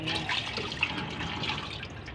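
Melted candle wax is poured into a container while making ring-type candles, a soft, continuous liquid trickle with faint drip-like splashes, close and alone for about two seconds.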